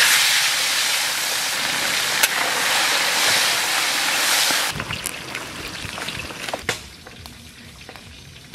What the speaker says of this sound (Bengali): মাছ ভেজে নেবো সর্ষের তেল।